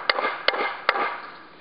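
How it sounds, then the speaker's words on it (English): Three sharp hammer blows striking a nail into a piece of wood, spaced about 0.4 seconds apart, each a close, loud knock with a short ringing decay. "You know how to nail something."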